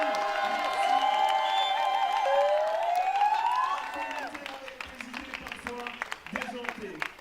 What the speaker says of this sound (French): S'il vous plaît, encore une fois, des applaudissements pour le comité et ces 24 personnes.